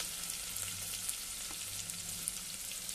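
Chopped onion and garlic fry in a pan for masur dal aamti, a soft, steady hiss of oil with faint crackles and light popping, quiet and close, no voices.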